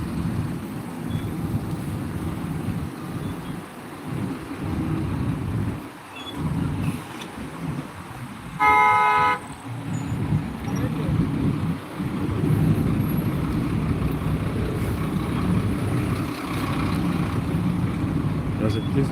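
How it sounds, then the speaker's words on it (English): Lagos road traffic rumbles around someone on foot amid a jam, with engine and wind noise underneath. A single short, loud car horn blast cuts through near the middle, and a person talks over much of the scene. "Trying to avoid this traffic."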